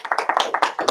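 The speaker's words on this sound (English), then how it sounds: "Round of applause." Light applause at an investors group meeting, a handful of people clapping in quick close succession, crisp and fairly loud for one brief second.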